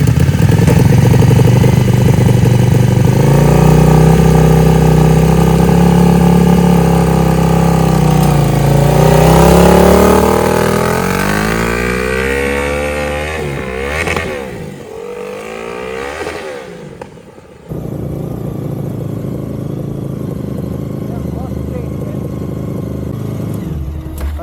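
A 1000cc monster kart engine runs loud and close, revving with rising and falling pitch, then dropping to a rougher lower note. It briefly cuts out near the end before settling into a steady idle.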